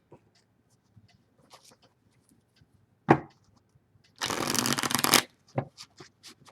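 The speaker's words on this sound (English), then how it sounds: "That was a good shuffle" A quick riffle of tarot cards is followed by a longer, dense shuffle lasting about a second, with soft scattered taps and rustles around it in a quiet room.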